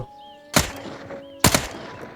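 Two sharp, loud gunshots go off about a second apart in the survival video game Fear the Night, each a punchy crack with a short tail. A soft tonal game soundscape hums underneath, and no one talks.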